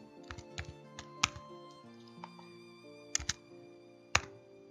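Typing on a computer keyboard while entering a search in a browser: scattered key taps and a few sharper clacks in irregular bursts, close and fairly quiet, with steady background music and no talk.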